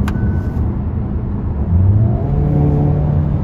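A Hyundai Kona N revs in N Grin Shift mode, a loud close engine note rising in pitch and holding, with a sharp pop at the start and a whirring drone, no voices.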